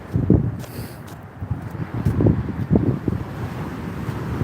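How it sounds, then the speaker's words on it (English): Waves on Lake Michigan wash in on a cold, snowy Chicago day, a rough broadband surge and rumble with heavy wind buffeting the microphone throughout. "Here's your waves at Lake Michigan."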